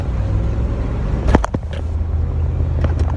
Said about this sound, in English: I'm gonna just quickly accelerate into traffic here.